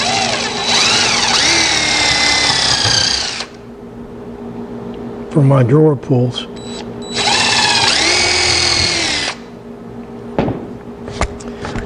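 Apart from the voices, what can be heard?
power drill drilling holes in wood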